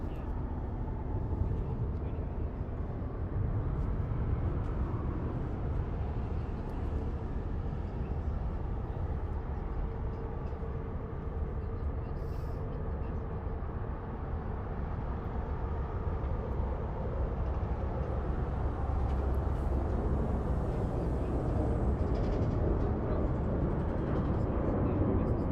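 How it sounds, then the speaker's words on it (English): Continuous broad jet engine roar from a Delta Connection SkyWest Embraer E175 holding on the runway at Los Angeles International Airport, steady and fairly loud throughout with faint outdoor ambience. "Lined up on the runway, we have Delta Connection, operated by SkyWest, on an E175 LR"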